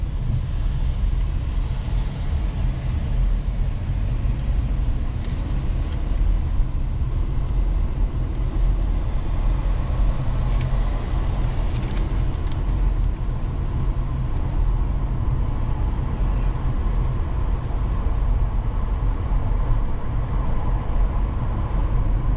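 An automatic car climbing the Trollstigen mountain road in Norway, heard from inside the cabin as a steady, close, low engine and road rumble that holds even for the whole stretch with no talking.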